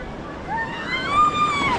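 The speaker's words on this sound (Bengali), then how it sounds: "বাপরে বাপ, কি ঢেউ," Sea waves at Puri beach roll and surge in a steady broadband wash that swells louder toward the end, with faint whistling tones drifting over the surf.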